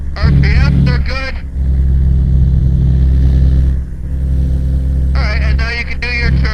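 Steady drone of a twin-engine light aircraft in flight on a downwind circuit leg, a constant low hum that continues under radio-style talk at the start and end.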